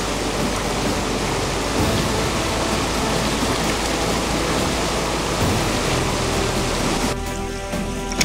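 A rushing torrent at a waterfall on a Hokkaido river where fish swim upstream roars as a loud, steady, broadband wash of water, continuous and unbroken, with no voices.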